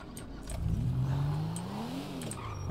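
A car engine in a video game garage rises in pitch as it revs, holding a steady mid-level drone with a short climb and fall, with no talk over it.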